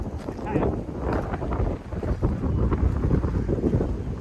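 A strong wind gusts loudly across the microphone outdoors near water, a rough, fluctuating rumble that swells and dips, with a voice speaking briefly under it.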